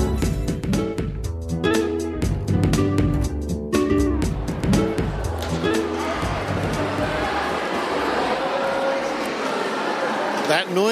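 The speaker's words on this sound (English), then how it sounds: "It's a combined sound of hundreds of students here, high school students at the Australian Museum" Hundreds of high school students fill the Australian Museum with a loud, dense crowd babble and shouting, with voices mixed throughout and nearby speech over the constant din.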